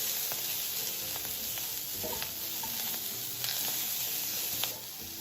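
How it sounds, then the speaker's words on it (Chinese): Shredded yam bean and carrot, about 600 grams, sizzle steadily in a hot wok while a spatula stirs and scrapes through them, a continuous close frying hiss with soft intermittent knocks. "将备好的沙葛与胡萝卜丝600克全部一起加入，再拌炒均匀。"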